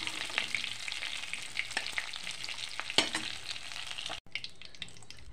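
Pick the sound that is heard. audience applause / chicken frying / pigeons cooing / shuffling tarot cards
chicken frying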